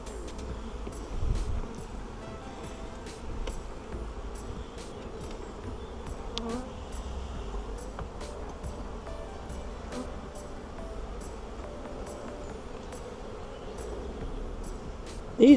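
Honey bees hum steadily around an open hive during a frame inspection, a faint, continuous drone with scattered brief clicks and knocks over it, and no voices.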